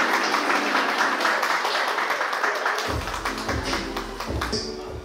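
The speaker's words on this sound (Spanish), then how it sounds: "el caluroso aplauso," An audience at a graduation ceremony gives warm, sustained applause for a graduate, a dense patter of clapping that continues as low, thumping music joins halfway through.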